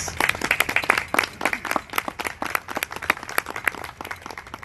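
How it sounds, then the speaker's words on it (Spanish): At a steampunk festival literary panel in Rioja, Chile, a small audience claps for the invited authors, with individual hand claps distinct in a brisk, uneven patter that carries through to the end. "un fuerte aplauso para ellos"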